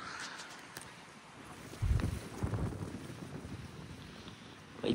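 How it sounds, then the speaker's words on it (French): Steady outdoor wind rushes and buffets the microphone, swelling into stronger gusts midway through; no voices. "Ah, on a un vent de sud."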